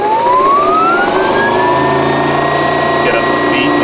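An AC electric vehicle drive motor on a test stand spins up, its whine rising steadily in pitch and then holding a high steady tone, with a low mechanical hum underneath.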